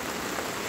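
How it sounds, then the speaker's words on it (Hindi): Heavy rain pours onto a flooded village road, making a dense, steady, loud hiss of splashing drops with no other sound. "देखिए कितने जोरों से बारिश की बूंदे ऊपर उठ रही है"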